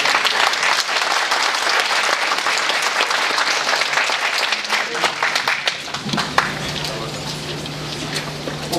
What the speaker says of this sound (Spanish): lo despedimos con un aplauso